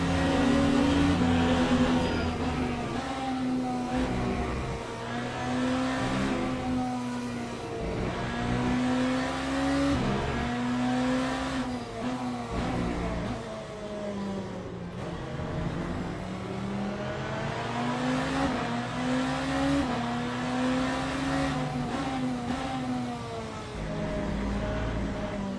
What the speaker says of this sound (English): I love that Lambo sound so badly